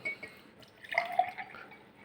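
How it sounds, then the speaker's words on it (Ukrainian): Milk is poured into a container, a faint, short gurgling trickle that lasts under a second after a few small drips, with nothing else going on. "Але ми мусимо наливати молоко."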